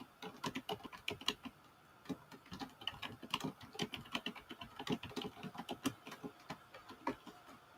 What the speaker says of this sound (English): let's make sure the rookie is typing in the right spot